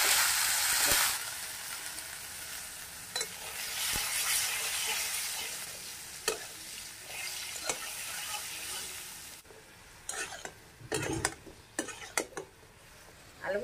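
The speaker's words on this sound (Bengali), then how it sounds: "কড়াইতে সরষের তেলটা দিয়ে দিচ্ছি, হলুদ দিয়ে দিচ্ছি, এবার আলুগুলো দিয়ে দিচ্ছি।" Potatoes fry in mustard oil with turmeric in a kadai for a Bengali fish curry, a loud hiss at first that settles into a steady sizzle, broken by sharp ticks and clatters of stirring.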